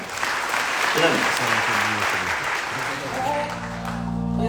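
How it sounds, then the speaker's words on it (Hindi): A crowd at a sales training event bursts into loud applause, a dense steady patter that carries on while a voice speaks over it midway and a tone rises near the end. "सुपर, जोरदार तालियां होनी चाहिए।"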